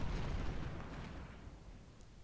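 Artillery fire in a Civil War strategy game, a low distant rumble of cannon blasts and explosions rolling continuously and fairly faint.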